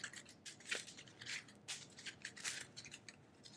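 A deck of cards for the Legendary Marvel board game being shuffled, quick papery riffles and rustles in short close bursts, quiet and without talk.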